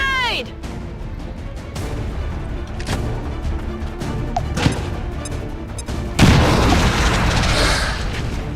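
A grenade goes off in XCOM 2: War of the Chosen as a loud, close blast late in the clip, after scattered gunfire-like impacts and game effects, with a brief voice near the start.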